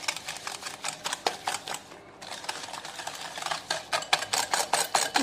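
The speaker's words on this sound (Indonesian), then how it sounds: "Ini enggak pakai di mixer ya, pakai kocokan aja seperti ini." Hand whisk beating chocolate steamed sponge batter with sugar, baking powder and emulsifier in a bowl, a fast steady rhythm of close wiry clicks and scrapes against the bowl, continuous and fairly loud with no talk.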